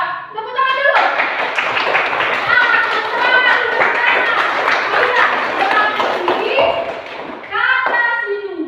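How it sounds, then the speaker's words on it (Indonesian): Children clapping their hands together in a classroom, a dense, steady burst of claps running for several seconds with young voices mixed in over it. "Tepuk tangan dulu."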